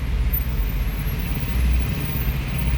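Road traffic with cars and motorbikes, heard from inside a moving vehicle as a steady, loud, low rumble of engines and tyres that runs through without pause or talk.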